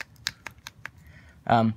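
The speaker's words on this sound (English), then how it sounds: "makes that clicking noise when you move it" Marvel Legends Poison action figure's plastic waist swivel clicking, five sharp close ratchet-like ticks in a quick uneven row, followed by a voice speaking.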